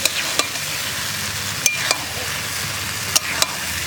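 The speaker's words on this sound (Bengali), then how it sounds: "এবার আমি কিছুক্ষণ মশলার সাথে মাংসটা কষাবো, আর হালকা আঁচে কষাবো" Mutton pieces slowly frying with spices over low heat in a pan, a steady close sizzle with a few sharp scraping stirs of a spoon against the pan, no voices.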